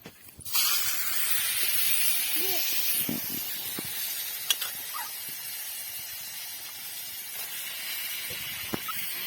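Fish dropped into hot oil with masala in a cooking pot at a lakeside outing, a loud sudden hiss that starts and then keeps sizzling steadily, with a few scattered clinks and brief voices mixed in.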